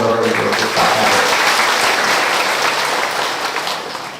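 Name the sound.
audience applause for the village head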